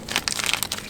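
A plastic bag crinkles and rustles during installation of a Hepco & Becker engine guard on a V-Strom 800 motorcycle, a short, continuous burst of close crackling handling noise.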